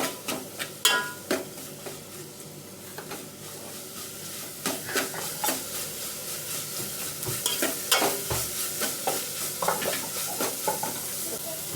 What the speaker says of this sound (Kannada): ಗರಂ ಮಸಾಲೆ ಹಾಕಿ ಸ್ವಲ್ಪ ಕದರ್ಸಬೇಕಲ್ಲ